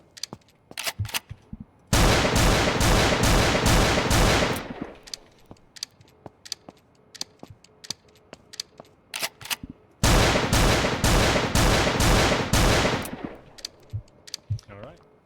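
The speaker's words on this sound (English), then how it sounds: "It's a semi-automatic shotgun" Two long bursts of rapid, evenly spaced blasts from the Arbiter semi-automatic shotgun in the Roblox game Aneurism IV, loud and close. Scattered quieter shots and clicks fall between the bursts.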